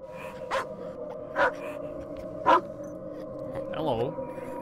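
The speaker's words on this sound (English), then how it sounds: "I don't think you're supposed to bark." Three short, evenly spaced barks from a creature in the horror video game The Frost, followed by a rising vocal yelp, over a steady low ambient drone.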